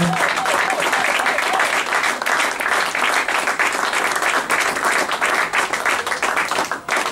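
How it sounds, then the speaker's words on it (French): A church congregation at a Sunday praise service claps and cheers loudly and continuously for several seconds, a dense wash of applause that tapers slightly at the end, with voices mixed in. "Est-ce qu'on peut acclamer très fort pour la gloire de Dieu, pour la gloire du Seigneur?"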